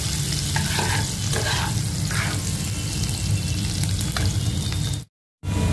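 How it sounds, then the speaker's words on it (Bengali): Chopped garlic fries steadily in hot oil and butter, a dense crackling sizzle with occasional stirring scrapes, then a sudden brief dropout near the end. "রসুনটা এবার হালকা করে ভেজে নেব"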